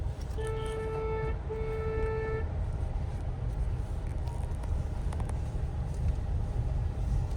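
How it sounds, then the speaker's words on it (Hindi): Two short car horn honks in a row, clear and moderately loud, over a constant low engine and road rumble, from a car in first gear moving slowly through a narrow lane. "हॉर्न दो।"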